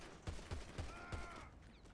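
Gunshots in a video game pop in a quick, evenly spaced series of four or five muffled, distant bangs over a low background hum.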